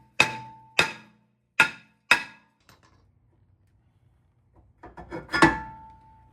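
Four sharp, ringing metal strikes in an even rhythm as a hammer hits a rear brake rotor on an Infiniti Q50, then a pause and a final cluster of quicker clanks, close and loud with no talking.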